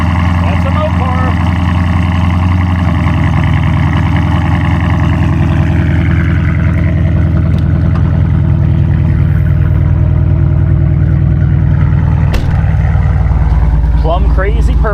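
Deep, steady rumble of a Dodge Challenger SRT Scat Pack in plum crazy purple with black matte stripes and its exhaust chopped off, idling loud and close for the whole stretch while people talk over it.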